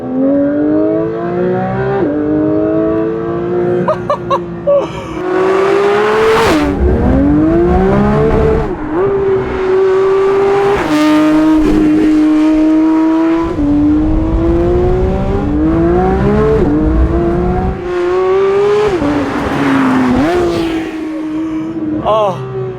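A Porsche 992 GT3 engine revs hard and climbs through gears repeatedly, loud and close, with rising whine between shifts and speech occasionally underneath.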